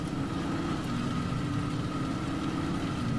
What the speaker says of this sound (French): Il y a un petit bruit dans le moteur.